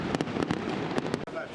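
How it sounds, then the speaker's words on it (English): Late-night fireworks at the Saint Agatha festival in Catania, Sicily, with several sharp cracking bangs in quick succession over a noisy crowd murmur. "to late-night fireworks"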